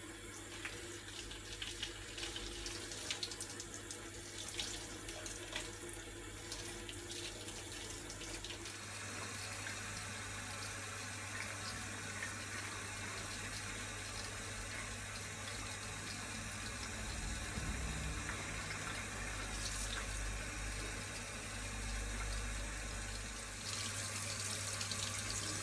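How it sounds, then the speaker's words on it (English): Hot tap water runs steadily into a sink while a resin 3D print is scrubbed with a sponge and detergent, the flow shifting in tone as it splashes, with faint handling noises and no talk. "The best way to clean the print is with a sponge and detergent and hot water."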